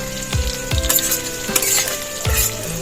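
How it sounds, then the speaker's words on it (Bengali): Onions fry in a pan of hot oil reused from making pakoras for a chicken curry, giving a steady sizzle broken by several sharp clanks of a stirring utensil against the pan. "পেঁয়াজগুলো প্রথমে ভালো করে ভাজা করে নেব।"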